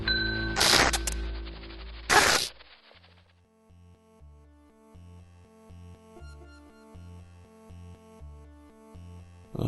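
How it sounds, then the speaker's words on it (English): A bell in the PlayStation game LSD: Dream Emulator gives two sharp, bright strikes early on, followed by a quiet, rhythmic synthesized melody of ringing tones. "Ring of the bell."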